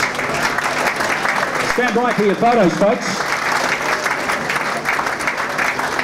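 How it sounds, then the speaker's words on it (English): Applause from a crowd at a volleyball club championship awards ceremony, sustained clapping throughout while an announcer speaks over it through a PA. "Big round of applause for our 1990s winners."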